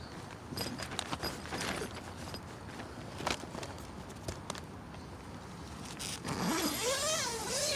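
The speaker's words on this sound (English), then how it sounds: "The zipper's actually really good on this." The zipper on a hiking sleeping bag is pulled in a few quick, close, scratchy runs, ending in a longer, smoother zip.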